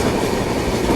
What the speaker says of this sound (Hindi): गाड़ी हमारी सेवाग्राम जंक्शन स्किप कर रही है